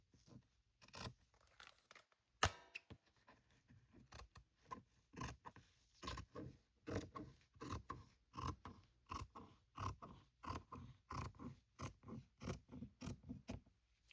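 Fabric scissors snip through directional fabric while a hidden-spine journal is being bound, giving a close run of crisp, sharp cuts in a steady, repeating rhythm with no talking.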